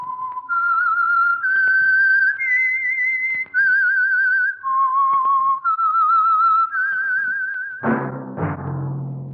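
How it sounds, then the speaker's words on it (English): A lone whistler performs the theme signal of The Whistler, the Signal Oil radio program. About a dozen clear, sustained notes rise and fall in a slow eerie melody, ending with a swelling orchestral chord. "That whistle is your signal for the Signal Oil Program, The Whistler."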